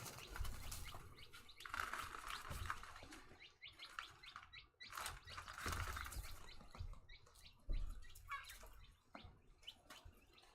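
One-month-old chicks and hens in a backyard flock make busy chirps and tweets with bursts of wing flapping and scuffling, fairly close and continuous throughout.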